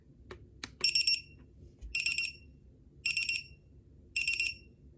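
Cute bedside alarm clock sounding: a few soft clicks, then four evenly spaced bursts of rapid high beeps, each burst a quick chirping cluster, fairly quiet in a still room.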